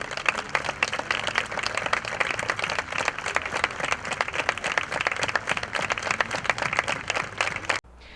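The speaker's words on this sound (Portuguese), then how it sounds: "233 palmas encerraram o ato." Steady crowd applause at the close of a vigil for missing people, dense rapid clapping sustained for about eight seconds before cutting off abruptly.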